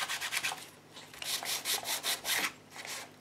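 A black StazOn ink pad is rubbed along the edge of a book in quick, close scuffing strokes, uneven bursts with short pauses between them, and no speech.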